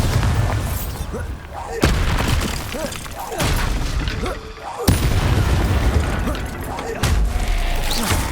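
Repeated Bombarda spell explosions in the video game Hogwarts Legacy, several heavy booming blasts in quick succession over a dense, continuous game soundscape with magical effects.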